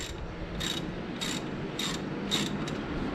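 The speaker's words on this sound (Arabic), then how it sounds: "وحنفك الروكرز هذه عشان نقدر بعدين نفك الهيد" A ratchet wrench loosens the rocker bolts on a Land Rover Discovery II engine, giving four short bursts of clicking evenly spaced over a low background hum.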